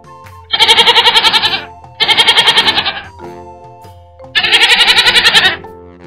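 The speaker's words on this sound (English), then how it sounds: "Goat." Three loud, wavering bleats from a goat, each about a second long, separated by short pauses.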